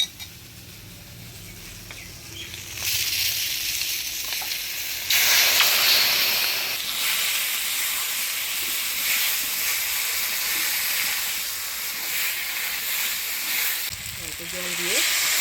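Spice paste hits potatoes already fried with turmeric and salt in a pan, bursting into a loud, steady sizzle that holds after a quieter start, with a brief surge of hissing partway through.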